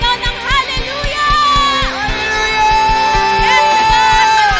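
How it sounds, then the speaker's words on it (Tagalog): A Sunday church service congregation cheers and shouts loudly over a steady, drum-driven band, the voices and music forming one continuous, energetic wash. "Bigyan po natin ang Panginoon ng napakalakas na palakpak at lahat tayo sumigaw ng hallelujah!"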